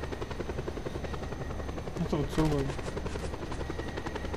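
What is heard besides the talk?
helicopter in video game Just Cause 2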